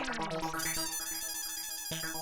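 A phone rings in a tune-like pattern while a call is being placed, steady and moderately loud with no talk over it.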